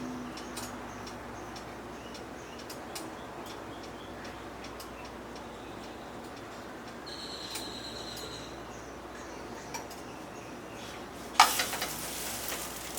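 Naan with butter sizzles quietly and steadily in a pan, with scattered light ticks and a short louder clatter near the end.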